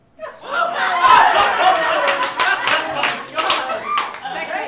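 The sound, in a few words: audience applause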